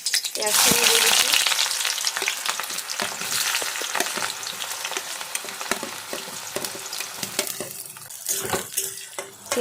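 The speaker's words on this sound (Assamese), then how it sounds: "পিঁয়াজখিনি মই 2 মিনিট ভালদৰে ভাজি ল'ম" Onions frying in hot oil in a wok for veg chow mein give a loud steady sizzle, with stirring scrapes and clinks from a utensil against the pan throughout.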